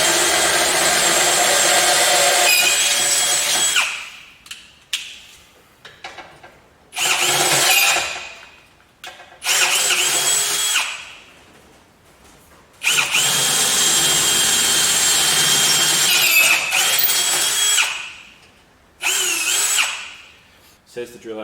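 Loud power drill boring holes to 10.5mm in a metal ARB bullbar for a Suzuki Jimny, in several long bursts separated by short pauses, whining close up with quieter gaps between runs.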